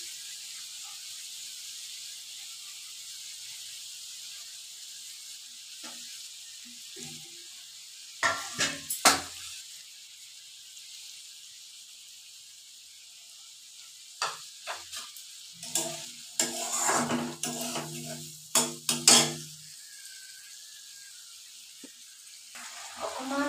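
Lote fish fry in a hot pan with onions and spices, giving a faint steady hiss broken by several louder bursts of crackling sizzle as pieces are stirred or moved, with no talking.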